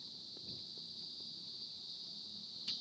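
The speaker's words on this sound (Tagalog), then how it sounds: "Narinig niyo ba yun? Mga kuliglig." Insects trilling at a cool-weather campsite in Alfonso, Cavite: a steady, high continuous chirring runs throughout at moderate level, with a few faint knocks and soft movement sounds underneath.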